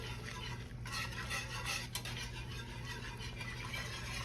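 Roux of butter, oil and flour being stirred into a pan for gravy, with a steady scraping, stirring texture over a continuous low hum, fairly close and moderately loud, with no talking.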